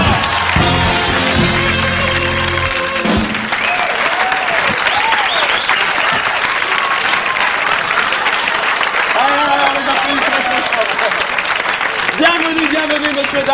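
A studio audience on a French TV game show applauds loudly and continuously, with dense clapping and some cheering, while music plays at the start and voices come through on top.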